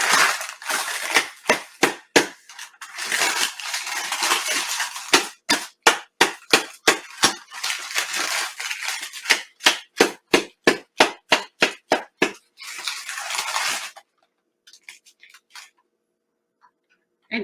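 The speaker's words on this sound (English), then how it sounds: "if you can't break it by hand, I just use a spoon" Hardened glass candy is cracked with a spoon: bursts of brittle crunching and shattering alternate with quick rhythmic tapping strikes, close and sharp, then trail off into near silence.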